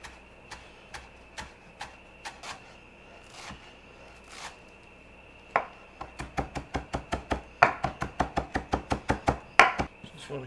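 Knife chopping fresh cilantro on a cutting board for shrimp ceviche: sparse single chops at first, then a fast, steady run of sharp, close taps that speeds up toward the end, with no talking.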